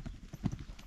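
A lively small pony being ridden produces quick, muffled hoofbeats in a brief burst of clip-clop on the ground.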